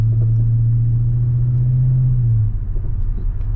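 A 2013 Dodge Super Bee engine idles with a deep, steady, fairly quiet exhaust rumble close by, the tone holding even and then dropping slightly near the end.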